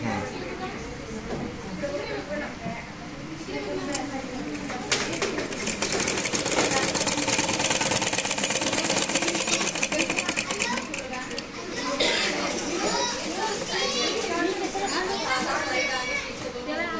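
A sewing machine stitching at a tailoring job runs through a busy room, its rapid mechanical chatter rising and falling under children playing and people talking nearby.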